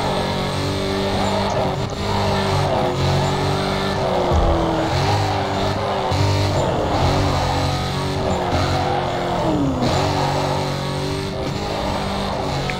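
A Dodge Challenger drifts in the Need for Speed Carbon racing game, its engine droning loudly with rising and falling revs and a rough tire-sliding rumble underneath, continuous throughout with no talking.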